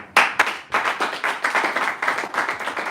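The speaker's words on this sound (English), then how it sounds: "Ladies and gentlemen, please a very loud round of applause for our panelists as they return to their seat" Audience at a live Nigerian anti-cultism declaration event clapping for panelists returning to their seats, sharp close claps starting sparse then settling into a steady rhythmic round of applause.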